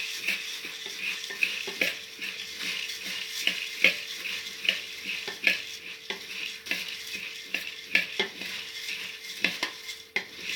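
A spoon scrapes and turns spiced puffed rice (girmit) in a pan, a busy run of gritty, rustling stirs with small clinks, steady and close throughout.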